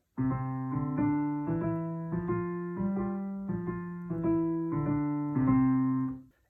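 Piano notes played by both hands slightly out of step, each chord smeared by a faint doubled attack, in a slow steady sequence.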